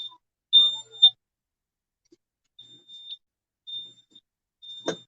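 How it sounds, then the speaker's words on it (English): A kitchen smoke alarm chirps in short, sharp beeps while pancakes cook, the beeps coming in scattered bursts with pauses between them, followed at the end by a brief clatter. "now y'all can turn the fan on so the alarm can shut up"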